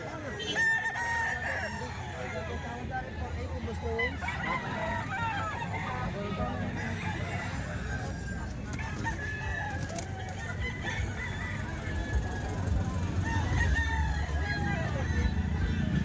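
Golden Boy line EEJ gamefowl roosters crowing repeatedly at a gamefowl market in Lipa, Batangas, several birds overlapping over steady crowd noise and clucking, with people talking nearby.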